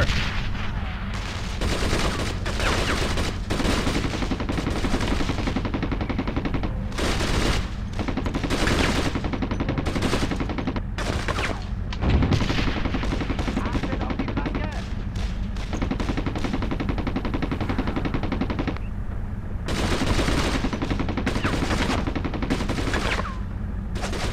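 Dense gunfire and machine gun bursts in the World War II game Brothers in Arms: Road to Hill 30, during the battle at Vierville, with rapid, loud, continuous volleys, brief lulls and a heavy boom, plus shouted voices in the mix.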